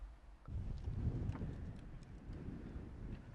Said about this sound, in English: I gotta get out of this wind.